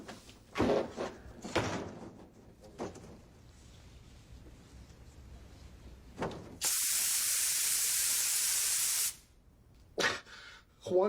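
A spray tan booth in a sitcom scene releases one loud, continuous hissing spray lasting a couple of seconds. Short bursts of voices and movement come before and after it.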